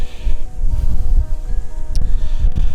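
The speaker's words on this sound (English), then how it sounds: "Wow, windy." Wind gusting outdoors in buffeting bursts against the microphone, uneven low rumbles rising and falling over a short stretch.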